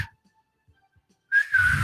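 A person imitates the high, wavering whistle of an old-school whistling Nerf football, one short sustained tone that slides slightly downward after near silence.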